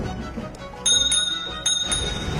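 A small hand bell rung near a herd of goats: two pairs of bright, ringing strikes that linger over a rough outdoor background.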